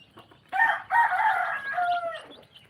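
A rooster at feeding time gives one loud, close, drawn-out crow that rises and then trails off, with faint clucking from nearby hens before and after.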